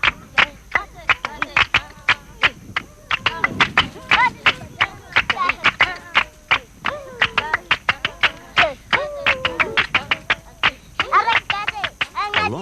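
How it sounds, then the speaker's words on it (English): Kalahari Bushmen children clap their hands in a quick, steady rhythm, crisp close claps repeating without pause while voices sing and call along. "The clapping of hands establishes the rhythm, and the children improvise the choreography"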